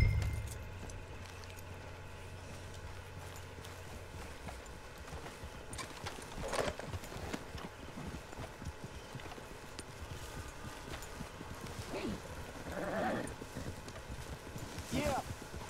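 Hooves of a horse in a cowboy video game clop in an irregular walking rhythm, fairly quiet beneath game ambience and some background murmur, with faint snorting.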